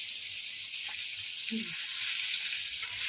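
Pointed gourd fries in oil, giving a steady hissing sizzle throughout the short stretch with a brief faint clink partway.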